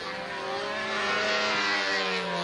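A model aircraft's small engine screams continuously through flight, a loud, steady high-pitched buzz with a slight rise in pitch and intensity, no voices over it.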